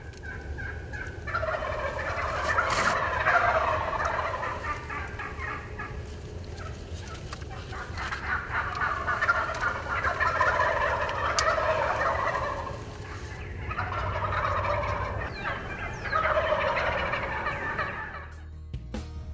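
Wild turkeys call near a hunting spot in Nebraska, with a younger tom gobbling alongside hens and jakes in repeated bursts of gobbles and clucks, fairly close and loud, separated by short quieter gaps.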